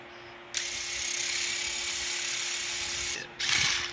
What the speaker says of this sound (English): Okay, I'll drill it here.